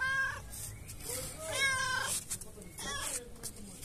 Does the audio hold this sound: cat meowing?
yes